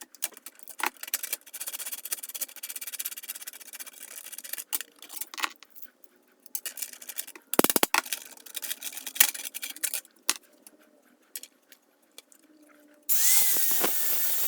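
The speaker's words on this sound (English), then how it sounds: "I'm using chassis punches to punch the holes for the meters." Chassis punches cutting meter holes in a control panel for a portable emergency power backup unit, heard as irregular close clicks, ratcheting creaks and sharp cracks scattered across the stretch, ending in a brief burst of louder noise.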